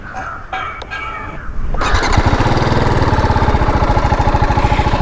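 A TVS Apache RTR 310 motorcycle fires up after some faint handling noises, then its exhaust settles into a loud, close, steady idle with a fast, even pulsing beat.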